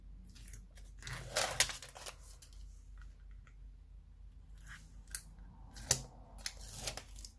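Adhesive scrapbooking paper is peeled away from its backing at a desk, giving close, crisp tearing and crinkling bursts with brief quiet gaps between them.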